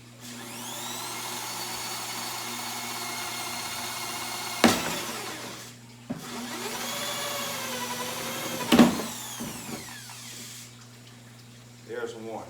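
A hole saw on a drill cutting holes in a plastic bin lid: a sustained whining drill pitch that wavers as it bites, broken by sharp clunks and pauses between two long cutting passes, with a brief burst at the end.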